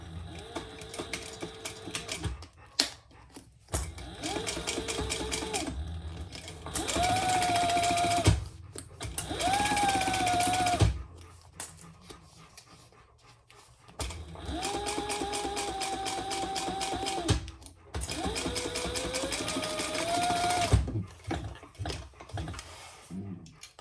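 A sewing machine runs in several separate bursts of a few seconds each, sewing a seam on a Speedwell sling bag, with its motor whirring up and down in pitch and short quiet gaps between the runs.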